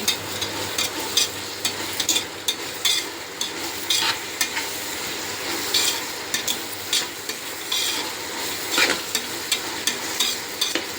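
Ground onions sautéing in a pan for biryani, an even, loud sizzle broken by repeated rhythmic scraping and clacking strokes of a spoon stirring throughout.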